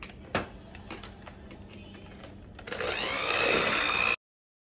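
Cookie dough for chocolate chip pecan cookies being mixed right after one large egg goes in, a steady mechanical mixer whir that starts partway through and grows louder, following a few soft clicks and knocks.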